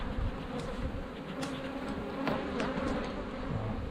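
Honeybees buzz steadily in and around a strong, heavy hive with honey frames and brood, a dense close drone with individual bees zipping past nearby.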